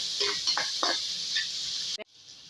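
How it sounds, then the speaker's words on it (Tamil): Onion and tomato are stirred and sautéed in a pan for a ridge gourd stir-fry, giving a soft sizzle with short scraping strokes that cuts off abruptly near the end, without any talking. "தக்காளி சேர்த்தாச்சு நல்லா வதக்கணுங்க"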